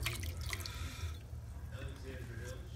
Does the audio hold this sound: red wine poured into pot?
yes